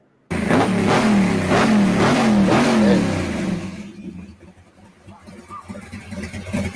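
A GNX car engine revs hard in several quick, rising bursts close by, then the roar drops away to a low, uneven idle rumble.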